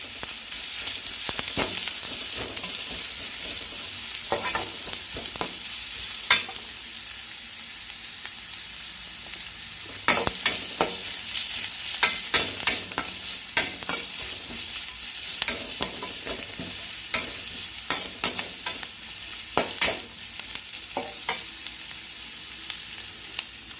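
Curry leaves crackle in hot oil during the making of a cowpea sundal, a steady close sizzle punctuated by repeated spoon scrapes and taps as the pan is stirred throughout.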